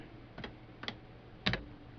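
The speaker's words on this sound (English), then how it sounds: "To do that, I type set." Command typed on a vintage TRS-80 computer keyboard: three sparse key clicks, each a quick double tap, faint and close in a quiet room.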